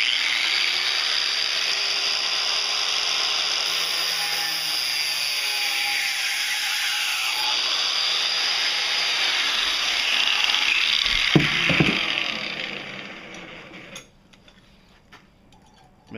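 A nail held in a vise is cut with a power tool: a loud, continuous high grinding whine holds steady for about twelve seconds, then spins down and fades into near silence, with no voices.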